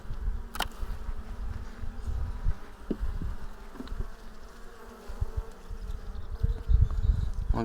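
Honeybees of a weak colony buzz in a dense, continuous hum inside a hive, with occasional louder passes and faint knocks and rustles underneath.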